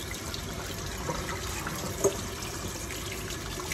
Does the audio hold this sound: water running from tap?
yes